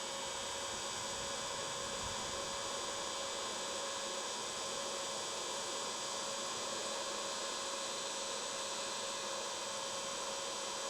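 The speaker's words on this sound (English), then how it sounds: "Get our heat gun. I prefer using the heat gun over a torch, personally." A heat gun runs continuously, giving a steady electric hum with a constant airy whoosh, loud and unchanging throughout, with no talking.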